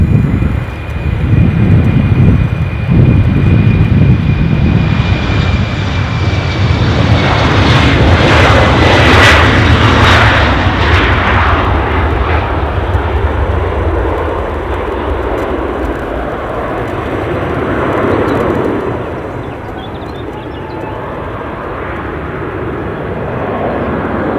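An airliner, an incoming flight from Berlin, taxis at Edinburgh airport, its jet engines making a loud, steady roar that swells in the middle and then eases, with wind buffeting the microphone.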